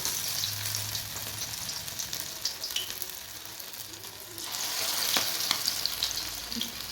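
Prawn fritters shaped by hand and dropped one by one into hot mustard oil, frying with a steady broad sizzle and crackle that swells louder toward the end, with a low hum underneath and no talking.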